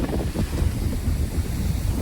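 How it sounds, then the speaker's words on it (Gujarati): Stormy sea on a windy shore, with heavy waves churning and strong wind buffeting the microphone in a steady, loud roar throughout, no voices heard. "ફૂલ એટલે ફૂલ દરિયો તોફાન થઈ ગયું છે."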